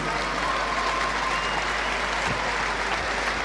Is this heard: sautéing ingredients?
no